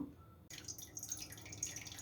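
Water pours and trickles close by after a moment of quiet, a soft uneven splashing stream with light drips, poured into ground moong dal paste for idli batter.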